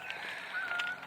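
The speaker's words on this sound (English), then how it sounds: "I hear a Canadian goose, but I don't see it" A single short honk from a Canada goose overhead on an early morning outing, clear but somewhat distant.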